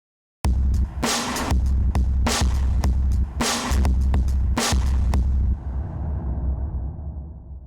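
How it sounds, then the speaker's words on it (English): Electronic drum-and-bass metal drum beat, sliced and run through added effects: loud, dense repeating hits with sharp bright bursts at a steady rhythm, ending in a fading washy tail, no voices. "So I added a couple of effects, and now it sounds like this."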